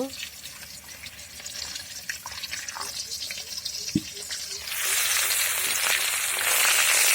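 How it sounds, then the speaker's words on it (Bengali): Water is poured into a pan of spices and onion in hot oil over a strong wood-fired stove: quiet bubbling and light splashes at first, then a louder, steady hiss that rises and keeps going. "এই মশলাটার মধ্যে আমি একটু পানি অ্যাড করব"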